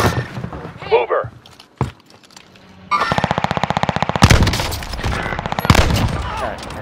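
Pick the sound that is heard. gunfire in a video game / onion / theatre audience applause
gunfire in a video game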